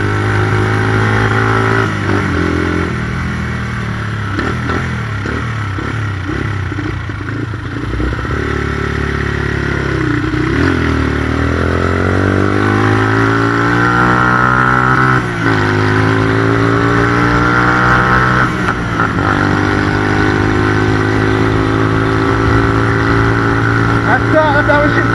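A Yeng Yeng 150 motorcycle engine revs up and down through gear shifts while riding, loud and close, with the pitch rising and falling throughout and a rider talking over it.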